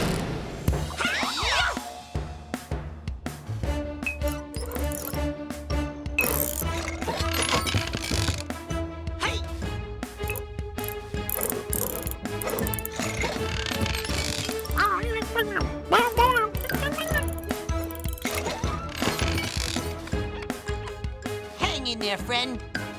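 A cartoon wrench ratchets with quick, repeated mechanical clicks and gear-like clatter, set against a busy animated soundtrack full of music and effects.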